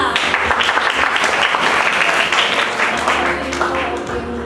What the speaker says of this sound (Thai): ขอเสียงปรบมืออะไรคะให้กับมอร์นิ่งค่ะ